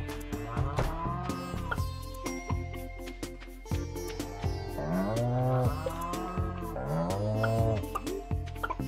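A cow moos repeatedly in the farming game Stardew Valley, with several drawn-out calls over a layered, steady bed of game music and ambience. No speech.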